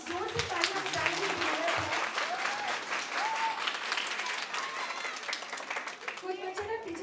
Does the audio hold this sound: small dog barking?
no